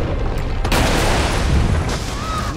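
A few sharp Magnum revolver shots from Resident Evil 3 Remake ring out over noisy game ambience, loud booms with a short tail.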